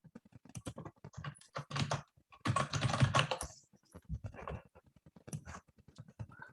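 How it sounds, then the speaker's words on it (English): Rapid computer keyboard typing, heard as dense bursts of sharp clicks with short pauses during an online group call, close and moderately loud with no clear speech. "someone typing really fast, or is that just interference?"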